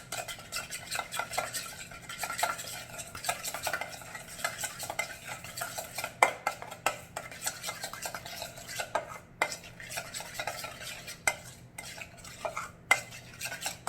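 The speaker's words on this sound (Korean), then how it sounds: "잘 섞어주세요." Kimchi, cheese and potato pancake batter with finely chopped Cheongyang chili peppers is stirred steadily in a bowl, the utensil scraping and clinking close up in a continuous irregular rhythm with no talking.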